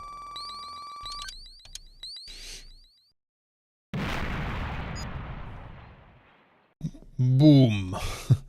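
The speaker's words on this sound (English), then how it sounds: "What a powerful explosion." Explosion in the Streets of Rage Remake video game: a sudden loud blast that decays over a few seconds after a moment of silence, set among game sound effects and beeping tones.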